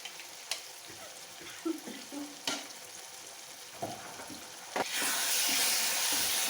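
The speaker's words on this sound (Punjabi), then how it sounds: "ਸਾਰੇ ਮਸਾਲਿਆਂ ਨੂੰ ਚੰਗੀ ਤਰ੍ਹਾਂ ਤੜਕੇ ਵਿੱਚ ਭੁੰਨ ਲਾਂਗੇ" Turmeric, Kashmiri red chilli, garam masala, coriander powder and green chillies frying in tempering oil for baingan bharta, quiet intermittent stirring scrapes and taps, then a sudden louder steady sizzle and hiss near the end.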